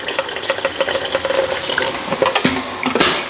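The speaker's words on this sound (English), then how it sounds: "I'm gonna add just a little bit of water." Water runs steadily from a kitchen tap while plant-based taco filling is being cooked, a close, continuous splashing stream with a brief clatter near the end.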